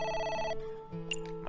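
A telephone at a diner rings with a bright electronic warble, one ring cycle that cuts off partway and then resumes faintly, heard close and clear with no talk over it.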